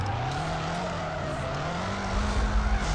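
Drifting car in the FR Legends video game, Nissan S15, with a steady engine drone and tire squeal holding through the whole stretch, loud and continuous, with no one talking.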